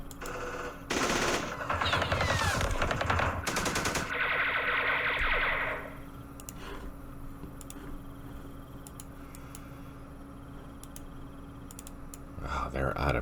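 Gunfire in the Campaign Series Vietnam war game, Battle of Hue: loud bursts of rapid automatic fire for a few seconds, then a sustained tone, dying away into quiet clicks with occasional soft talk.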